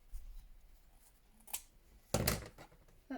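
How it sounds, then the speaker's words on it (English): Metal scissors dropped while making wallpaper tags, a couple of quiet clattering impacts followed by a louder clatter in an otherwise quiet room. "dropped my scissors now."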